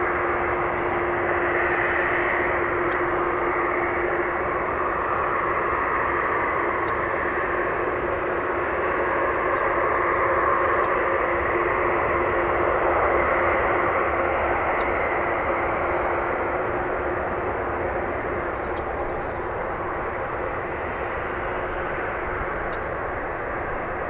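An Airbus A330 airliner at Dublin Airport gives a steady, distant engine roar that holds smoothly, a broad whooshing drone with a faint hiss and no voices over it.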